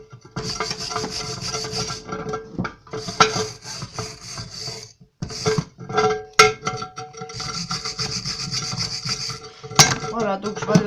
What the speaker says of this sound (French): On va donner un petit coup de brosse, bien sûr.